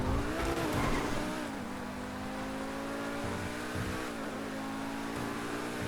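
A Pegassi car in GTA V Online drones with a loud, strained engine note while its tires squeal and skid, the sound steady and close throughout with no distinct crash impact.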